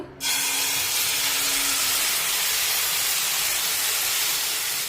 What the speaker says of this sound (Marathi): पळीने किंवा पेल्याने हे बॅटर या पॅनमध्ये सोडूया